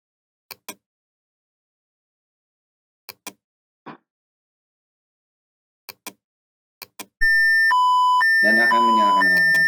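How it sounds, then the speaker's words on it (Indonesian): Several soft clicks and a short beep, then an electronic alarm on a SCADA-controlled ice cream production machine starts: loud stepped tones repeating steadily. "Dan akan menyalakan alarm."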